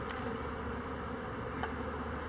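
Honey bees humming around a hive during a varroa mite check, a steady, even buzz at low level with a couple of faint clicks, no voices.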